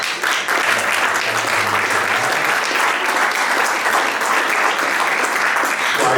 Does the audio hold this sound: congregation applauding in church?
yes